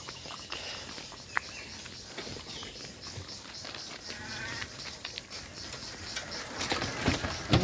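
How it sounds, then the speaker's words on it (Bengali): Crickets chirp steadily outdoors near a village market in hot weather, a dense high insect drone with scattered faint bird chirps over low background noise. "আর পাখির কিচির মিচির আওয়াজ, ঝিঝি পোকার"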